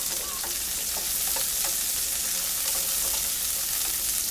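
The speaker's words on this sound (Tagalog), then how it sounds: "ilagay ko na tong sibuyas, yung ating onion" Onion sautéing in a pan while greens are cooked outdoors, giving a steady, close hiss of frying with faint scraping and stirring clicks throughout and no voices.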